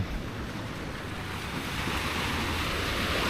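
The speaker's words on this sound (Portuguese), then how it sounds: "Só da gente ficar ouvindo esse barulhinho do mar" Waves break and wash steadily onto Canasvieiras beach in Florianópolis at night, a continuous broad roar of surf with wind rushing across the microphone and no voices.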